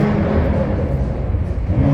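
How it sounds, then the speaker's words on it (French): A powerful car engine revs hard up close at a Montreal carspotting outing during the Formula 1 weekend, a loud sustained roar that holds steady throughout. "On se calme le moteur."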